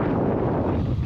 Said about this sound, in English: a gust of wind picks us up and we start moving really fast